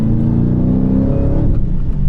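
A 426 Whipple-supercharged Hemi engine held at wide open throttle, a loud steady close-up roar with a sustained harmonic drone, no speech.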